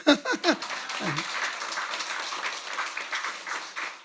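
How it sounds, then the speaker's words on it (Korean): A church congregation breaks into sustained applause during a Sunday service, steady clapping filling the room after a brief spoken voice at the start. "박수 한번 쳐요"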